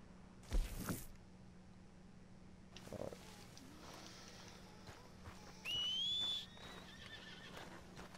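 A horse in the Red Dead video game whinnies loudly near the start, followed by faint hoof clip-clops, a short whistle and another snort over a quiet low hum.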